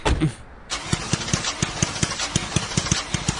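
An old, battered junk car engine cranks and catches, then settles into a rough, pulsing idle with regular knocking beats, fairly close and loud with no talk over it.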